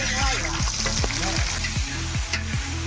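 Food sizzles and fries in a huge wok while a ladle scrapes and stirs it in repeated strokes, loud and close, with a voice faintly in the background.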